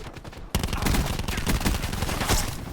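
Gunfire in the Modern Warfare video game, a dense continuous burst of rapid shots that fills the whole stretch at steady loudness after an abrupt onset.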